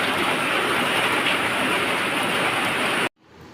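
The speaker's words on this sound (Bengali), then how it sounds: "কত জোরে বৃষ্টি পড়ছে দেখো" Heavy rain pours outside as a dense, steady hiss that stays constant for about three seconds, then cuts off abruptly into near silence.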